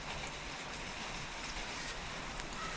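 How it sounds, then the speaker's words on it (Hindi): A quiet, steady wash of light monsoon rain falls in the distance over a village, a soft continuous hiss without voices. "और बारिश हो रही है धीरे धीरे"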